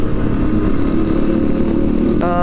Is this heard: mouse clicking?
no